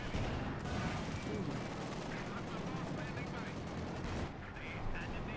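Gunfire in the Company of Heroes 2 strategy game, with shots striking and bouncing off a Panther tank: a dense, continuous battle clatter that stays loud throughout.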